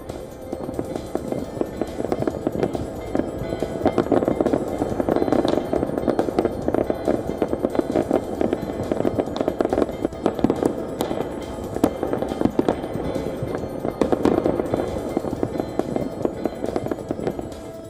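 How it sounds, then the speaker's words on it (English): New Year fireworks over the Acropolis in Athens, a dense barrage of sharp bangs and crackling bursts at an irregular rapid rhythm, loud and sustained over a crowd-like wash. "Greece rang in the new year with fireworks over the Acropolis in Athens."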